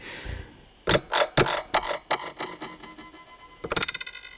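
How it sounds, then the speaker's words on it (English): A series of sharp clicks and short percussive button presses on an Elektron Octatrack sampler, smeared and colored by echoing effects, ending in a quick rattling burst. "So this is the sound of the octa track as a sound generating unit"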